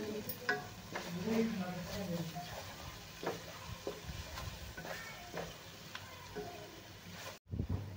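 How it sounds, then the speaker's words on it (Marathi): Spices and red chilli powder frying in a pan for dhaba-style malai paneer, a soft continuous sizzle broken by scraping stirs and clinks, with speech faintly in the background. "आता हे सगळे मसाले आपल्याला छान तळून घ्यायचे आहेत."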